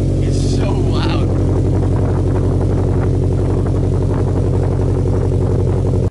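A car engine idles and revs through a new, much louder Greddy Revolution RS exhaust, a steady deep drone filling the whole stretch, with a voice speaking briefly over the start.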